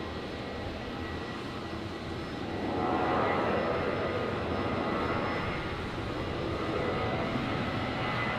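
China Airlines Airbus A350 jet departing Brisbane Airport at night, a steady distant engine roar that builds slightly and then holds as a broad even rumble, heard alone without voices.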